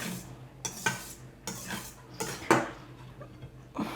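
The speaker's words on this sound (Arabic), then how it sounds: "وغادي نخلطوا هاد العناصر هي من الفوق للتحت" Cake batter of beaten eggs folded from top to bottom, heard as a series of soft wet sweeping strokes about once a second, close by with no voices.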